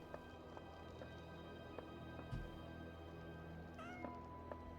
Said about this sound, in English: I could hear him meowing.